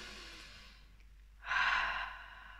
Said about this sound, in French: Je t'invite à respirer profondément